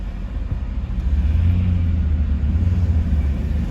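A big bus drives along a road, hogging several lanes, giving a steady low engine rumble with a slight swell that stays close and continuous throughout.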